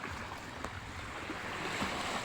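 Sea waves at high tide, deep water offshore with boats nearby, give a steady broadband wash of surf and wind noise that holds at an even level for the whole stretch, with no talking.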